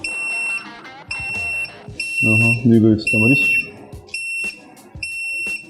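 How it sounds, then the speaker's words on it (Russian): Mould temperature controller sensor alarm beeping in repeated high-pitched electronic pulses, roughly one per second, while someone talks over it nearby. "Сейчас, по идее, датчик должен постепенно перестать пищать"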